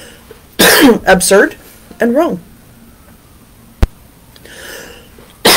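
A person speaks briefly, then gives a couple of dry coughs and clears their throat, close to the microphone, followed by a sharp click.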